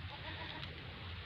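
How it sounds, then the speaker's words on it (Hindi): A pure tota-face goat on a goat farm, heard as a short, faint, breathy bleat or rustle against steady farmyard background hiss. "ये आपके सामने प्योर तोता फेस में बकरी जा रही है।"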